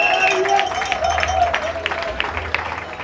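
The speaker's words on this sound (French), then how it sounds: "nous allons les accompagner par nos applaudissements, s'il vous plaît" Wedding guests clap for the newly married couple in a busy reception hall, steady applause mixed with crowd murmur and a sustained musical tone underneath.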